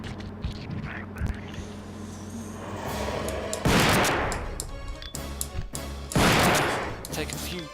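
Gunshots against the mutating boss G in Resident Evil 2 (Bio Hazard 2): two heavy, booming blasts stand out over a rumbling backdrop of game noise and scattered smaller thumps.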